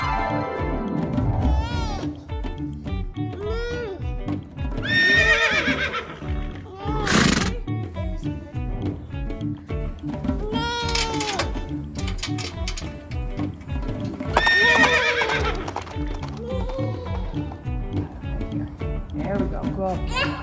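Several horses whinny and neigh loudly in repeated bursts over a steady rumble, with hoof clip-clop faint underneath and a voice talking at times.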